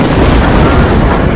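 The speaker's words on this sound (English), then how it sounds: "an explosion ripped through Beirut's port" The August 2020 Beirut port explosion comes through as a loud, sustained rumbling roar, a dense wall of sound without a distinct single crack.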